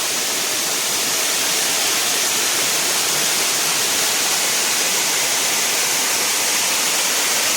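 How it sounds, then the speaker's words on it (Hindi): Dense, constant hiss of a small waterfall in the rain on a trek in Thane, Maharashtra, loud and close, with pouring water filling the whole span evenly and no voices. "बारिश में ऐसे छोटे छोटे वाटरफॉल जगह जगह मिल जाएंगे।"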